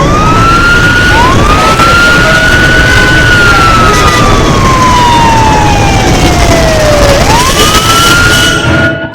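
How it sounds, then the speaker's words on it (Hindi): A wailing siren rises and falls in long sweeps over steady traffic rumble, loud and fairly close, with no talking. "चारों तरफ एम्बुलेंस की आवाज थी।"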